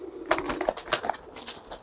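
A pigeon coos softly in a coop, several short low calls spread through the moment amid light rustling and shuffling nearby.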